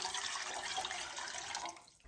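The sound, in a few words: pouring chicken broth into a soup pot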